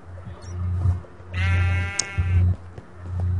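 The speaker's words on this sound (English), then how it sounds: "Oh god, sheep, get out of here" Sheep bleating in the Minecraft video game: one drawn-out, wavering bleat in the middle, with low game ambience and soft thumps around it.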